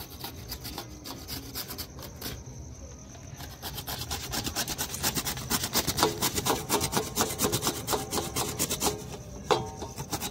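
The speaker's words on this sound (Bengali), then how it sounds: "ঘষে নিই বিটটা আর গাজরটা।" Raw carrot and beetroot are rubbed against a kitchen grater for Indian vegetable and tomato chops, a steady close rasping with rhythmic scraping strokes that quicken and grow louder as it continues.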